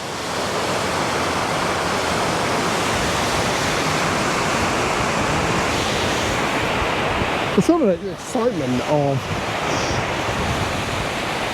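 Water rushing over a small weir on the River Thames, a steady broad roar that fills the whole stretch, with someone talking briefly over it near the end.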